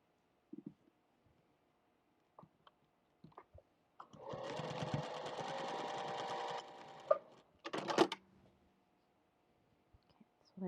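A sewing machine joins fabric pieces for a coffee-cup mug rug in one steady, even run of about two seconds, with scattered soft clicks and handling noises before and after in an otherwise quiet room.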